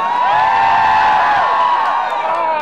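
A concert crowd at a show lets out high, sustained screams and cheers that fill the space with one loud, continuous wall of voices, heard from within the audience.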